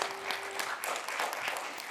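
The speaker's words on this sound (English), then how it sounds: "Let's give Phoenix another round of applause." An audience at a grade 4 speaking contest final claps for a young speaker: a short burst of mixed, fairly soft clapping from a room of listeners, with individual hand claps standing out.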